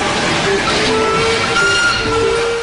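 A Darjeeling Himalayan Railway narrow-gauge train on two-foot track rumbles loudly and steadily, with a hiss and short tonal whistle-like notes over the running noise.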